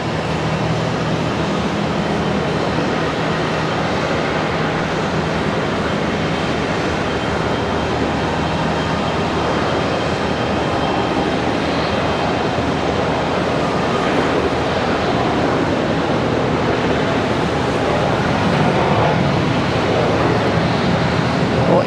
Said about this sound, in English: ERJ departure.